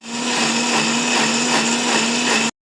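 A mixer grinder blends fried masala with a little water into a fine paste for red mutton sambar, giving a loud, steady high-pitched whir that runs unbroken and then cuts off abruptly.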